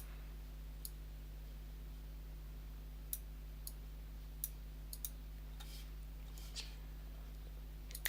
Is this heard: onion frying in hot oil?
no